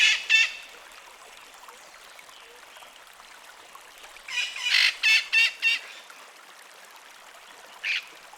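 Puerto Rican parrots give harsh squawking calls: a short pair at the start, a rapid burst of four or five loud squawks midway, and one more near the end, over a quiet background hiss.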